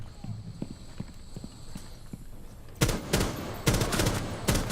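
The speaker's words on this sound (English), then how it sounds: "Now that moment there is obviously just random shots" Gunshots go off in a Rainbow Six Siege terrorist hunt: first a few scattered, fairly muted reports, then several loud sharp bangs in quick succession over the second half.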